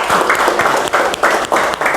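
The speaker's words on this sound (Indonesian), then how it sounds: "tepuk tangan dulu untuk teman ini" A classroom claps for a student, a short burst of fairly sparse hand claps from a small group, close and moderately loud, with no talk over it.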